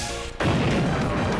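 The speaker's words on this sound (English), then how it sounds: "The series of explosions blew Ymir's little body about like a leaf" Fireball explosions in the video game VenusBlood Frontier: a brief lull, then a sudden loud blast that rolls into dense, continuous rumbling detonations filling the rest of the moment, with no voices.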